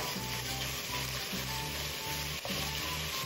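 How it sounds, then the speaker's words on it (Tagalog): Pork and leeks fry in oil with a steady, close crackling sizzle and faint rhythmic scraping as the pan is stirred, with no voices. "gusto ko mag-blend yung ating pork tsaka ng leeks sa oil hanggang mag-brownish ang ating karne"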